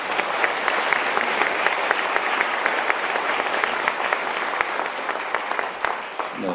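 Audience applause for a presidential candidate at the close of a question-and-answer event, a dense, sustained round of many hands clapping that holds steady and then tapers off at the end.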